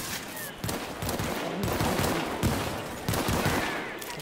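Gunfire in Tom Clancy's The Division video game: a dense, continuous fusillade of rapid automatic shots at fairly close range, crackling steadily with no talk over it.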